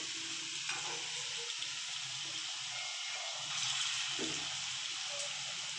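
Chhana (cottage cheese) pieces frying in oil over a low flame, a steady moderate bubbling sizzle with faint crackles, continuous and even, no voices.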